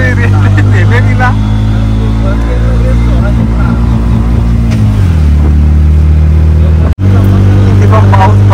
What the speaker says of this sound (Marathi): बाबा रिक्षा घोंगोंग करायला लागली